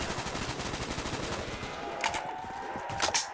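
AK rifle gunfire in Black Ops 3 Zombies, rapid bursts of shots rattling beneath a busy game soundscape, moderately loud with a few sharper cracks near the end.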